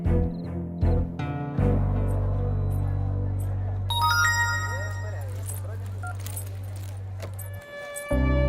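A phone rings on and on without being answered during a dramatic scene in a Hindi-dubbed romantic film, its repeating electronic tone sitting over a steady low hum and background sound.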